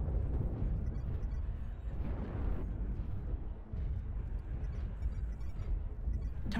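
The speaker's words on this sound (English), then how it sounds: "Artillery strike activated." Artillery strike explosions in the MechWarrior Online game, heard as a dense, continuous rumble of booming blasts that rolls on loudly throughout with no clear gaps.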